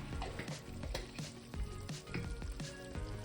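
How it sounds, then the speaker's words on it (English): Coconut oil melting in a pan on low heat for a Kenyan beef stew, a soft crackling sizzle with irregular pops and light stirring knocks, close and quiet, no talking. "put it on the low heat as the oil is melting"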